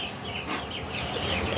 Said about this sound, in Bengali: মুরগি দেখুন, আমার এখানে 150 পিস মুরগি আছে।